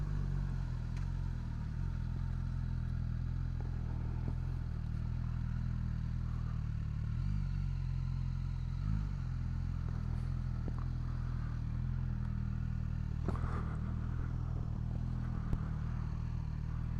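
A 2023 Suzuki Katana motorcycle engine idles with a steady low rumble, close by and alone, with a few light clatters.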